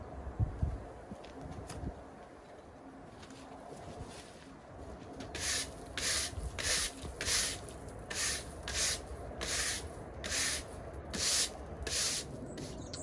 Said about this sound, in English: I'm going to give it a brush over with a stiff broom just to remove any of the remaining mosses and debris that might be on the path